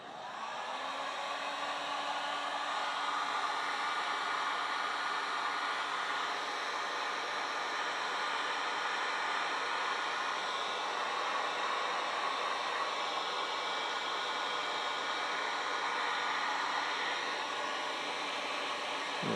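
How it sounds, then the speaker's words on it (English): A heat gun blows steadily and loudly for the whole stretch, warming wiring during an LED tail light install; a continuous even rush of air with a faint motor whine and no talking. "let me get a heat gun going here"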